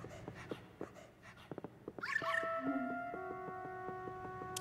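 A dog in a video game pants in quick soft breaths, then lets out a long, high, wavering whimper that trails off in a steady whine, close and fairly quiet.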